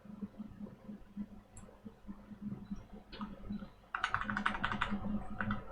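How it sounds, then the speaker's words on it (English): Computer keyboard keys tapped while editing a friendship bracelet design, soft irregular clicks at first, then a quicker, brighter burst of repeated arrow-key presses close by. "I can just use the arrow keys to actually move that right into place"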